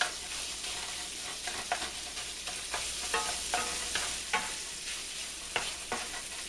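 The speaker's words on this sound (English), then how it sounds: "I'm just going to brown my sausage" Sausage browns in a frying pan with a constant hiss, broken by repeated scraping and stirring strokes from a utensil, close and fairly loud.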